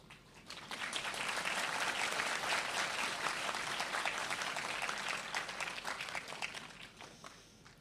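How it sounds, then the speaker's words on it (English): A graduation ceremony audience applauds, dense clapping swelling in within the first second, holding loud and steady for several seconds, then thinning out toward the end. "Please enjoy and applaud as loudly as you can for your friends and for yourself"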